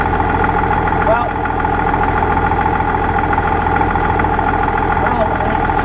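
An International Harvester 1586 tractor engine idles nearby with a steady, loud, low rumble that holds even throughout.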